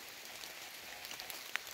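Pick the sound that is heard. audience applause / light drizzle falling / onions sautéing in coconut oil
light drizzle falling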